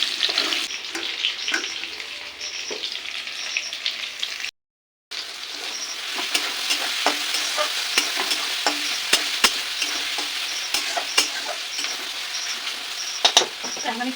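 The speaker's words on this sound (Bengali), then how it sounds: "এখন এখানে আলু ভাজা হচ্ছে" Potatoes fry in a pan during home cooking of a chicken curry, giving a loud, steady sizzle with intermittent stirring scrapes and clanks. There is a short break in the sound partway through.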